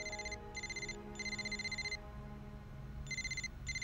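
A cell phone rings on school grounds with a trilling electronic ringtone in repeated bursts separated by short pauses, clear and fairly close over a low background hum.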